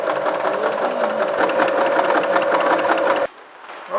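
A sewing machine runs steadily for about three seconds, stitching an insulating curtain, and then stops abruptly, leaving quieter background sound.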